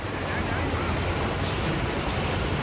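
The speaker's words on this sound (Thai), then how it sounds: "น้ำไหลแรง" Strong floodwater rushes after a heavy rainstorm in Thailand, a loud, continuous broadband roar with no pauses that fills the whole moment.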